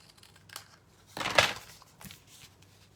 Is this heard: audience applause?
no